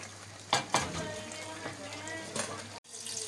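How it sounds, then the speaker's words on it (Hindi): Hot oil tempering with green and red chillies sizzles and crackles in a pan for a spinach dish, a steady frying hiss with a few sharp clinks and spits, fairly faint and close. "अब मैं इसके ऊपर डालूंगी भंगार"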